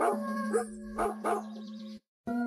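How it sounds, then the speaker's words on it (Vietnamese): Dogs in an animated horror story barking and howling in a few loud, close bursts with a sustained tonal whine between them, then a brief gap of silence before another bark. "mấy con chó chạy về một chỗ."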